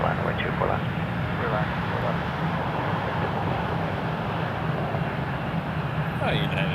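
A United Express airliner landing at Toronto Pearson Airport gives a steady, broad jet roar that persists throughout, with people talking over it.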